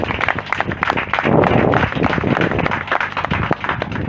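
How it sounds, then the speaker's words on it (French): A crowd applauds at an official handover ceremony for a new three-classroom school building, with dense, steady clapping that swells around the middle and carries on for several seconds. "Je voudrais que vous applaudissiez."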